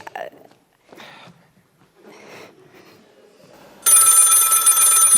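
An old-fashioned telephone bell rings loudly and continuously in a quiet home at night, breaking in after soft footsteps and faint movement.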